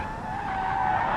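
Car in a driving video game downshifted to second gear at around 70 mph without rev matching, giving a sharp tire-skidding screech over a strained engine tone, short and loud.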